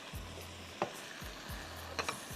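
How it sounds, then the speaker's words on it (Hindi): A soft, steady sizzle from a pan as carrots go in for a bakla dish, with a few faint clinks and stirring knocks over the low frying hiss. No one speaks. "अब मैं जा रही हूँ इसमें गाजर डालने, 1 बड़ा या 2 दरमियाने"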